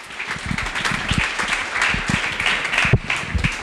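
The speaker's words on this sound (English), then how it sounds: "let's give a great round of applause for Mr. Nolan Ryan" A crowd at a baseball-themed public gathering breaks into sustained applause, many hands clapping loudly with a few whoops mixed in, the sound holding steady.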